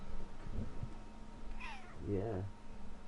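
A cat meows close by with one rising, drawn-out meow followed by a second lower, wavering one, heard over quiet background room noise on a golf outing.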